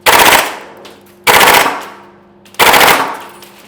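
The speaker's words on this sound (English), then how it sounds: "we'll start with some semi-auto shots. Nice, really, really snappy, and then we'll try some little bursts" A SCAR-L MK2 rifle fires three loud, snappy shots at roughly even intervals, each sharp crack trailing into a short decaying echo, close and dominant with no talk.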